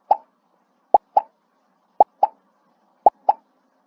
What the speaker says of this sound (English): our kangaroo moves and makes a little hopping or popping sound each time he moves